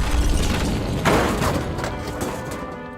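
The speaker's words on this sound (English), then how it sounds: "During an Israeli airstrike on Gaza, these kids were lucky enough to have moved away from the wrong place at the right time." An Israeli airstrike explosion in Gaza erupts as a loud, broad rumbling boom, with a sharp thud surging about a second in, then a sustained roar slowly fading.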